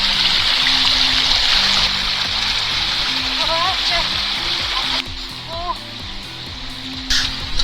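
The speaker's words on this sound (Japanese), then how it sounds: "川を渡ってばっかりなんでなかなか距離が進みません" A mountain stream rushes loudly and steadily close by at a river crossing on a trail, with faint bird chirps over the constant water noise.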